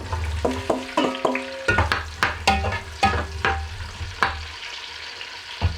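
Onions go into hot oil infused with aromatics for a korma base gravy, sizzling and frying loudly up close while a utensil stirs them in repeated scraping strokes.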